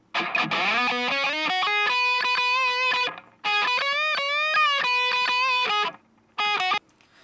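A sustained electric guitar lead, EQ'd with the lows cut, plays bending, singing notes with a thin, bass-light tone, in three phrases separated by brief pauses.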